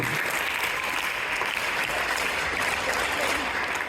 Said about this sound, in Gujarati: સૌથી પહેલા ફાલ્ગુની બેન માટે જોરદાર તાળી